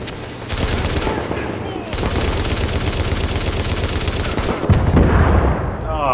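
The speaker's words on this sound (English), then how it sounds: "Is he gonna fire every bullet he has?" Heavy automatic gunfire in The Division, a loud, dense, continuous barrage of rapid shots that runs almost unbroken for several seconds before cutting off near the end.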